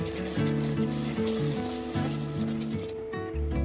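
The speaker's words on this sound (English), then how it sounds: "we're gonna add some cream of mushroom. And just stir it up" Cream cheese and cream of mushroom stirred together in a sizzling pan, a soft steady sizzle with light scraping, heard up close under background music.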